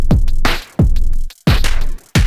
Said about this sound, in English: So my drum machine is going to sound like this.